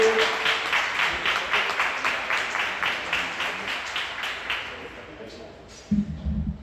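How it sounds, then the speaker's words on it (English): Crowd at the Louisville Dirt Bowl Hall of Fame awards claps for an inducted former player, in pulsing, rhythmic waves that slowly fade, with a voice and a brief thump near the end. "Can we give a round of applause for Mr."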